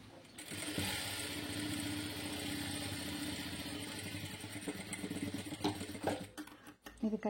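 A sewing machine runs steadily, stitching an invisible zip onto fabric. A quiet, continuous mechanical whir and needle chatter slows and stutters toward the end.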